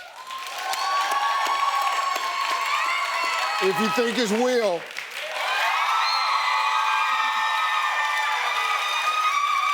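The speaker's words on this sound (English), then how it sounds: "round of applause if you think it's Rich" A television talk-show studio audience erupting in loud sustained cheering, whooping and clapping, dipping briefly while someone speaks over it before surging again at full volume.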